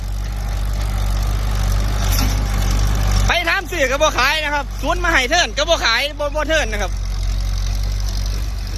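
An old Kubota L4708 tractor engine idles with a steady, low, continuous drone that holds evenly from start to finish, while someone talks over it close by through the middle stretch.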